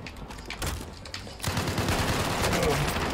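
Gunfire in a battle royale video game, with a burst of shots early on and a denser, louder stretch of rapid fire from about halfway, heard under a noisy game mix.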